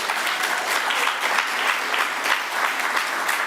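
An audience at a youth council political debate in Anguilla claps in steady, loud applause, a dense wash of many hands throughout with no talking.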